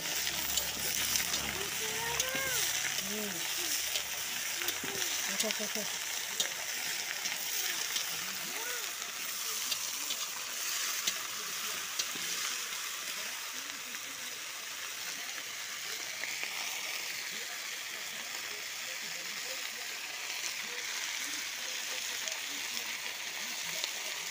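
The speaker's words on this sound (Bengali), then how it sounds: "এখন দিয়ে দিল মাংসটা, মাংস দিয়ে লাড়াচাড়া" Meat frying with chillies in a hot pan while being stirred, a steady close sizzle and crackle with scraping, voices talking quietly over the cooking throughout.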